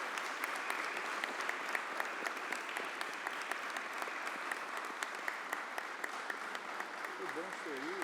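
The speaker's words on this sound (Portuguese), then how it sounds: "Uma salva de palmas para o nosso homenageado." Applause for an honoree at a formal medal ceremony, a large audience clapping steadily at a distance, with a brief voice rising over it at the very end.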